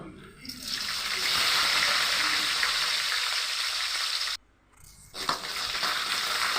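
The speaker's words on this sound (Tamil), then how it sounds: "விட்டால் ப்ரௌன் கலர் ஆகிற வரைக்கும் அதை வறுத்துக்குங்க" Chana dal, urad dal, mustard seeds, cumin and fenugreek frying in hot oil in a pan, a loud, steady sizzle close by that briefly drops away before crackling back up.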